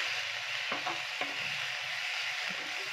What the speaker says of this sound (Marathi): आता आपण यामध्ये हळद घालून घेऊ आणि टोमॅटो घालते। चांगलं मोठ्या गॅसवरती परतवते मी।